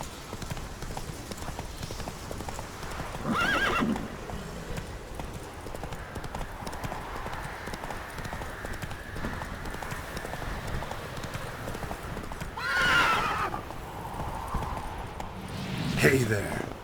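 Horse galloping through the Witcher 3 game world: steady clip-clop hoofbeats throughout, with brief neighs or snorts rising at a few points, loud and close, over faint background ambience.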